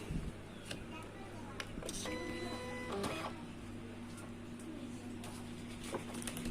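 A Silhouette Cameo 4 cutting machine powers up with a short whirring motor run and a high tonal whine lasting about a second, among clicks and handling noises, close by over a constant low electrical hum.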